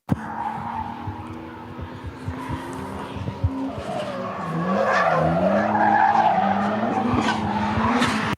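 Drift cars battling on track, a 250 hp BMW E46 Compact against an EcoBoost-powered S13, with tyres squealing and skidding over revving engines. The sound is continuous and builds louder in the second half.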